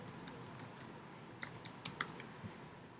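Light clicking keystrokes on a computer keyboard in a quiet room, irregular taps in small clusters, close and soft with no talking.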